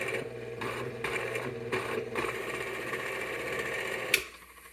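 A repaired Robbins and Myers electric fan runs with a steady motor hum and faint rhythmic ticking, then cuts off sharply with a brief click near the end.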